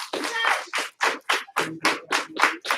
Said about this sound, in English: Give him 1 clap, 2 claps.